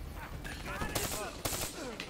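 An ICR rifle fires in Call of Duty Black Ops 3. A few short, hard gunfire bursts punch through as someone talks over them throughout.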